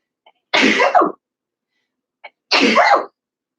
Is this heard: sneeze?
yes